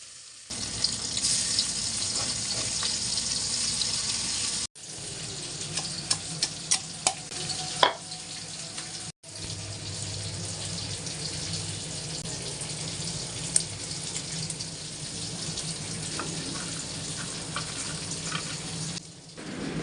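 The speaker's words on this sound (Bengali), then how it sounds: "মরিচগুলোকে আমি তেল দিয়ে খুব ভালো করে ভেজে নিচ্ছি" Dried red chillies frying in oil in a home kitchen, a continuous crackling sizzle close by, broken by two brief cuts and scattered light clinks.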